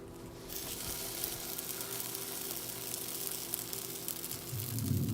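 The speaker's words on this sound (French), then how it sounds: "Je laisse cuire environ 5 minutes avant de la retourner." Steady, close sizzling of chicken curry brick pastry frying in a non-stick pan, a continuous crackling hiss that swells slightly louder toward the end, with no voices.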